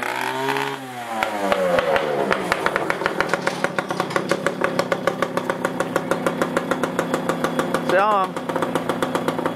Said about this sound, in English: Show him your new dirt bike.